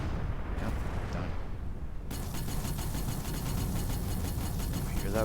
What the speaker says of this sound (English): I hear that bolter going.